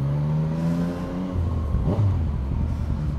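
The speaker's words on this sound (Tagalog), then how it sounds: "enjoy nyo yung tunog ng CP3 Yamaha Cross Plane Engine Inline 3." A Yamaha MT-09's CP3 crossplane inline-three engine with quick shifter revs and accelerates, the pitch climbing then dropping as it shifts, loud and close with a rumbling undertone.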